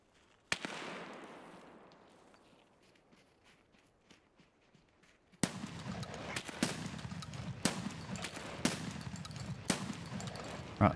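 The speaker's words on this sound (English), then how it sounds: "that scav shooting there" A scav shooting in Escape from Tarkov, with an early sharp crack, then a denser passage of intermittent distant shots and impacts over a continuous rumble, with no voices.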